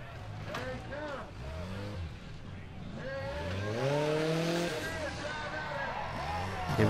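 A Formula Offroad buggy revs at full throttle during an offroad competition in the USA. The engine whines and climbs in pitch with repeated surges, loud and close, with the sound rising toward the end.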